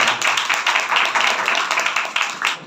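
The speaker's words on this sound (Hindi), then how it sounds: "उसके जलाल के लिए जोर से ताली बजाएं" A church congregation claps loudly and steadily during a Sunday service, a dense, continuous patter of many hands filling the room for the whole stretch, with no voices over it.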